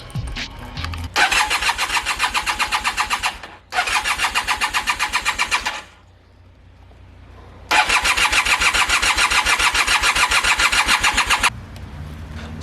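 A 1976 Ford F100 Dentside pickup truck cranks over three times, each burst a rapid rhythmic chugging from the starter, with a short pause and then a longer silence between attempts, before settling to a low rumble.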